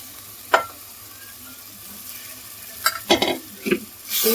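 A spoon stirs paneer tikka masala in a pan, with a few distinct scraping strokes over a quiet low sizzle, one early and a cluster of quick stirs toward the end.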